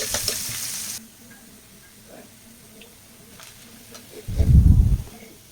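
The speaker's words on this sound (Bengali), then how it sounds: "এখানে একটু পেঁয়াজ দিয়েছি, সামান্য পরিমাণে একটু তেল দিব, দিয়ে এটাকে হালকা একটু ভেজে নেব" Garlic and onion fry in a little oil for a Bengali bitter gourd dish, with a loud, close sizzle that swells near the end after quieter stirring and pan noise.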